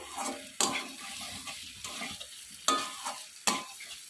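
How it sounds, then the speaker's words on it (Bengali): Spice paste frying and being stirred in a pan for a paneer capsicum curry, with a steady sizzle broken by several sharp scraping strokes of the spoon, close and fairly quiet. "এখন মশলাটা দেখো পুরোপুরি কষে গেছে"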